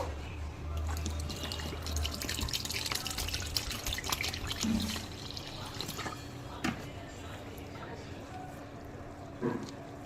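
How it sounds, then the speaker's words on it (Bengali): Water is poured into a breakfast batter of ground coriander, cumin and carrot and stirred in, giving a close, wet trickling and sloshing with scattered scraping clicks that run steadily throughout. "এবারে জল দিয়ে ভালো করে মিশিয়ে নেব।"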